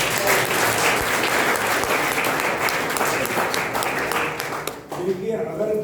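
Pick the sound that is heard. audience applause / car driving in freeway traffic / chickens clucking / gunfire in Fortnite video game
audience applause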